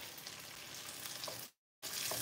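Steady hiss and crackle of food sizzling in a hot pan, cutting out briefly before resuming, no talking.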